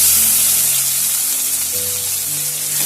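Finely chopped onions and crushed garlic are frying in a pan, giving a loud, close, steady hiss of sizzling oil under a low hum.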